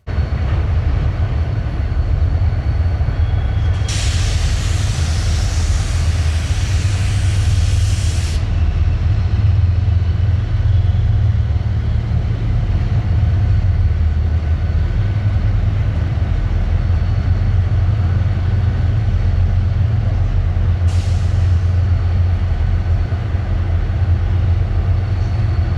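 Heavy rail rumble runs continuously for the whole stretch, a deep steady drone of locomotives moving nearby through CPKC's Bensenville rail yard, with brief bursts of hissing noise.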